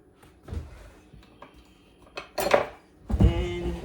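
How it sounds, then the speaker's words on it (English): A spoon clatters against a crockpot holding chicken and gravy, making scattered clinks and scrapes that build to a louder clattering toward the end. "We'll give it a stir"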